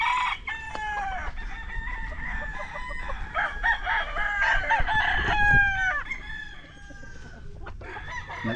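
Roundhead gamefowl roosters crow at a farm, several overlapping cock-a-doodle-doo calls from birds at varying distances, with clucking and scattered yard noise around them.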